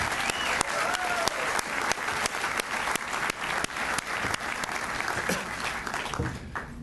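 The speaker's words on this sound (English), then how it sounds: "How about a round of applause for the team," An audience at a university engineering gift announcement gives a sustained round of applause, steady and fairly close, with occasional sharper individual claps standing out throughout.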